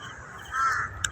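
A bird swooping at a dog lets out a short harsh call, crow-like and moderately close, followed by a brief sharp click over quiet outdoor background.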